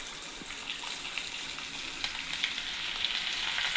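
Pongadalu batter fries in hot oil, a dense, steady hissing sizzle that grows slightly louder toward the end, with faint clinks of a ladle and no talk.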